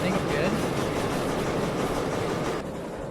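Heavy S282 steam locomotive in Derail Valley rolling through a curve, a dense continuous rumble and rattle of wheels on track, loud and close, with brief talk over it.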